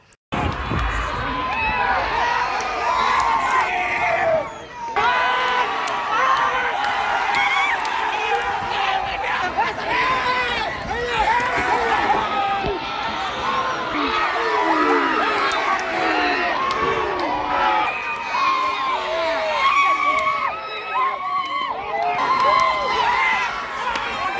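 Supporters cheer and shout loudly and continuously at a bullock log-pulling race, a dense roaring crowd with excited voices and babble throughout.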